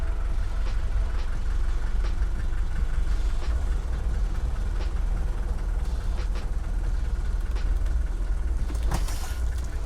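A restored Mercedes 240GD diesel engine pulling steadily uphill off-road with the front locker engaged: a low, continuous mechanical drone with faint ticks and clunks over it, no talking.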